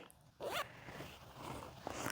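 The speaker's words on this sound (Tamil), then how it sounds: "ஹாஃப் ஜிப் தான் ஓப்பன் ஆகும்." A zipper on a stitched fabric sling purse is pulled open partway in one quick rasping stroke, followed by soft handling rustle, close and fairly quiet.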